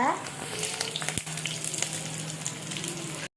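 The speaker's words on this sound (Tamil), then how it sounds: "கடுகு, வெந்தயம், கருவேப்பிலை போட்டுக்கலாம்." Mustard seeds, fenugreek and curry leaves crackle in hot oil for a fish curry, a loud close sizzle with sharp pops and spits throughout before an abrupt stop.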